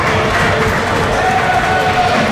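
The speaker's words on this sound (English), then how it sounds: "the crowd applauding Kenzie Page's effort" A wrestling crowd applauds a wrestler's effort after a hard-fought women's match, a steady wash of clapping and cheering filling the arena, with commentators' voices mixed beneath it.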